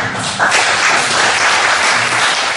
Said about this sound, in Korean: 다시 한번 우리 박예민 선생님한테 감사의 박수를 좀 드립니다